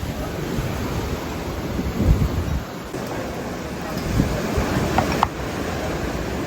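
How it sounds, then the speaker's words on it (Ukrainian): Sea waves wash over a beach at Almyrida on Crete, Greece, a continuous loud rushing surf with wind buffeting the microphone and a few swells rising and falling. "хвилі забирають воду"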